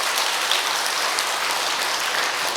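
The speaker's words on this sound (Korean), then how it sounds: "스님들에게 박수 한번" A crowd at a Buddhist temple ceremony claps for the monks, steady dense applause from many hands filling the space throughout.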